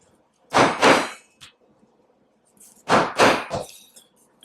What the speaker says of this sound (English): The next thing we need to do is punch out some leather washers.